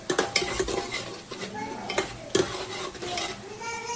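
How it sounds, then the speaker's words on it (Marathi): Coriander and ginger-garlic paste being sautéed in hot oil, with a spatula stirring and scraping a pan in close, repeated strokes over a steady frying sizzle. "थोडीशी कोथिंबीर आणि लसूण अद्रकची पेस्ट ती आपण परतून घ्यायची आहे."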